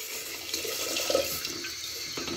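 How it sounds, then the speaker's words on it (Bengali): Milk poured into a cooking pot set on a stove, a steady close liquid stream splashing continuously with a faint bright gurgle partway through, no voices. "তাতে দুধগুলো ঢেলে দিচ্ছি।"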